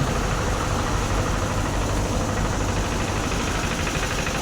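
A concrete mixer truck's engine runs steadily nearby, a dense, unbroken low rumble with no pauses or voices.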